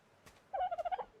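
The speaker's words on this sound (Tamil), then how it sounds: "டோடோ பார்த்தீங்களா?" A dodo bird in the survival video game Ark lets out a short, close gobbling call, a quick run of about half a dozen turkey-like clucks after a brief soft rustle, with no talk.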